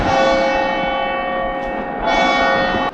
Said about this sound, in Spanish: Son las campanas de la hora.